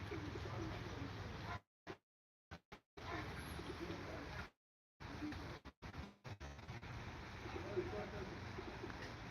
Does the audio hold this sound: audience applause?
no